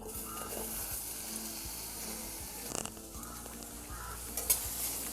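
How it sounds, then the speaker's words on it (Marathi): Onion frying in oil in a kadhai, with a constant close sizzle under the scrape and clatter of a spoon stirring against the pan, with a louder knock near the end and no talking. "कांदा आता आपण तेलामध्ये थोडासा शिजवून घेऊया"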